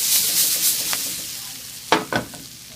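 Onions caramelizing in a pan over medium-low heat give a steady, soft sizzle, with a few sharper scrapes of stirring near the end; no one talks.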